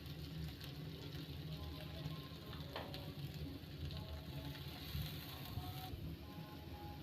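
Chopped onions fry in a pan for mote palya, giving a steady, close sizzle with soft crackles throughout.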